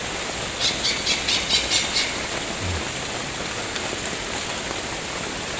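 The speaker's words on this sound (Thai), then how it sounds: "เสียงนกกาละแกงครับ" Repeated high chirping calls of a Greater Coucal (nok kalaekaeng) in a short burst over steady rain-like hiss, then the calls stop and only the wash of rain remains.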